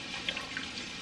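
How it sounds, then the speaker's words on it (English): Water poured from one jar into another for rinsing, a faint, brief trickle with a few small splashes over a steady soft background. "Now I'm going to pour it into this one and rinse this jar out."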